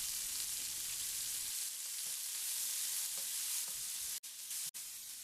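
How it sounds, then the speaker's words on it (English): Onions sautéing in oil in a pan give a steady, close sizzle throughout, with a few brief stirring clinks and two sharp momentary dropouts near the end. "add some extra oil to help sauteing the onion"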